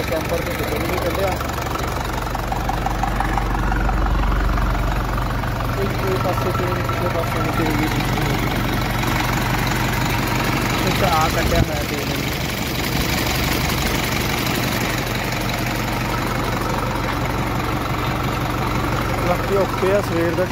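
A modified Ford 5911 tractor engine, upgraded to 75 hp, idles with a steady low chugging and a knocking pulse, loud and close, while people talk faintly over it.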